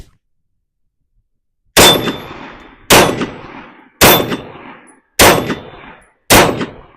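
Five sharp pistol shots from a Ruger RXM fed by a Magpul magazine ring out loud and close at a steady pace of roughly one per second, each with a short ringing decay, after a quiet start.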